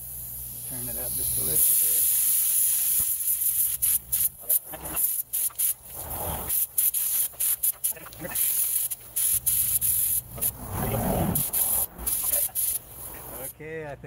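Automotive single-stage acrylic enamel sprays onto a vintage chainsaw in repeated hissing bursts of varying length, close and fairly loud, while someone talks between and over the passes.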